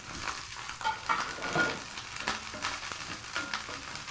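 Garlic and chili stir-fried in a pan as the base for cuttlefish give a soft, steady sizzle, with occasional light scrapes and stirring bursts, close and fairly quiet, no talking.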